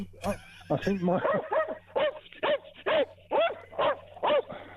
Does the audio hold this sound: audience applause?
no